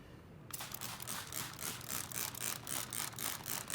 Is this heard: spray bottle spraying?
yes